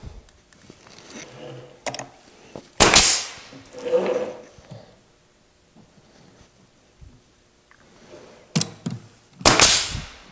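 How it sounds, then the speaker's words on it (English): Glue and staples fix wood trim onto an oak night stand, producing sharp, loud staple-gun snaps: a few quick bangs near the start and a pair near the end, with quieter handling noises between. "Apply a little glue, staple it down."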